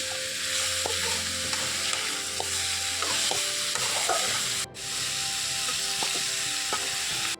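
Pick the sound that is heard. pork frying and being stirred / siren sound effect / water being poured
pork frying and being stirred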